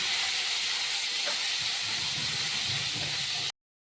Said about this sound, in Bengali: তেল গরম হয়ে গেল এবার তাতে আমি বেগুনগুলি ভাজতে দিয়ে দিচ্ছি